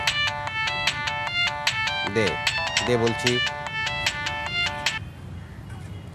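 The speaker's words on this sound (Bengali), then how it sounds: "কি বাজে রে?" A mobile phone ringtone plays a repeating electronic melody loudly for about five seconds, with people talking over it, including a brief snippet of singing.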